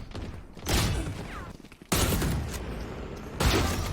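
Rapid bursts of Marshall sniper rifle fire in Valorant, three loud sharp shots spaced about a second apart, each with a booming tail, no voice over them.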